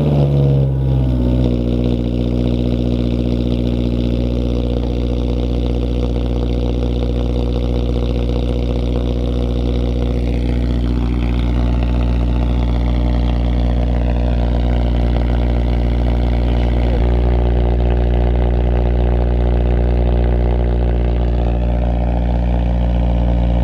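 A Honda S2000 engine cranks and catches, then runs close and loud for over twenty seconds, settling into a steady idle with a few gentle rises and falls in revs.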